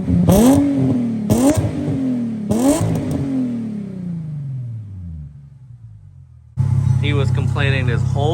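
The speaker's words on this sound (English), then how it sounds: "give it a couple more revs after" A 2008 Nissan 350Z HR fitted with a Megan Racing exhaust revs three times in sharp throttle blips, then the engine winds down through a long falling note before settling into a loud, steady idle.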